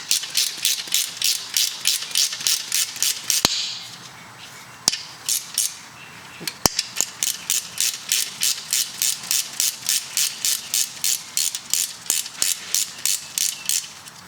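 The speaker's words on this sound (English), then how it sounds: "Need a wrench." A ratchet wrench clicks in rapid bursts while removing bolts from the exhaust manifold of a Kia, a close, loud run of pawl clicks, a brief pause with a few sharp knocks, then another long steady stretch of ratcheting.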